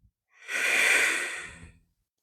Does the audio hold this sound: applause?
no